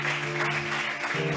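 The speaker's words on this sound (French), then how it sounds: "Est-ce qu'on peut acclamer?" A church congregation claps and cheers in a steady, dense wash of applause that keeps an even loudness throughout, with a held musical tone underneath.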